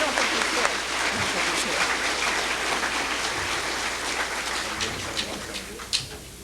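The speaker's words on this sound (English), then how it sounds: "he deserves our own special round of applause" A room of diners at a small-town centennial awards banquet applauds, a thick, steady patter of many hands at moderate volume that gradually tapers, with a few louder individual claps near the end.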